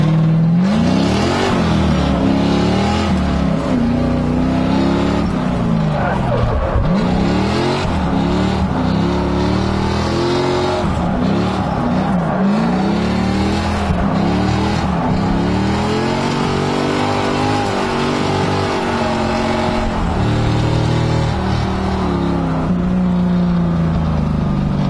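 An LS-swapped Mazda Miata drifts on track with a loud, continuous V8 roar that surges and falls as the throttle is worked, recorded close and constant for the whole stretch, the revving dominating any tire noise.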